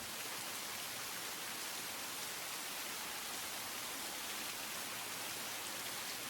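Rain in the visual novel game Tsukihime, a continuous soft wash of falling rain, even and unbroken, moderately quiet ambience with no voices or other sounds.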